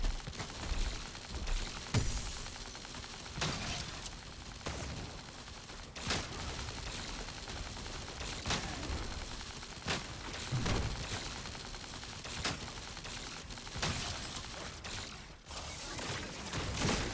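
Dense, busy game audio with repeated sharp broadband bursts of shotgun fire and mechanical clatter running continuously throughout, loud and close with no talk.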